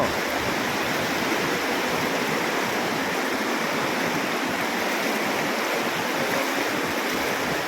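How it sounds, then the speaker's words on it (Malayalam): A flooded river in Kerala rushes past with a strong current, a loud unbroken roar of churning water close by, steady from start to finish with no voices. "ഭയങ്കര ഒഴുക്ക്"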